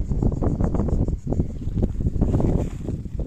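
Gusty wind buffets the microphone outdoors, a steady low rumble with rough bursts throughout.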